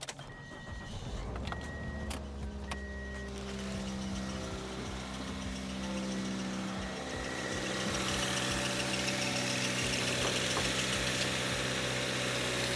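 A car engine idles steadily with a low, even hum after CRC belt conditioner is applied to the belts, a few short metallic clicks and jingles early on, then a smooth, quieter running tone.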